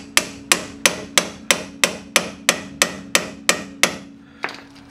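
A hammer striking a pickle fork wedged in the front lower ball joint of a 2014 Lexus GS350 AWD, about a dozen sharp metallic blows at a steady, even rhythm, close and loud.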